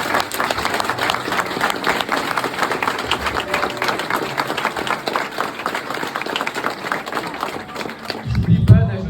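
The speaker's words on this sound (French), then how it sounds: "Je pense qu'on peut les applaudir." Applause from an audience at an inauguration event, with brisk, dense clapping and crowd murmur throughout and voices heard underneath, ending in a louder thump.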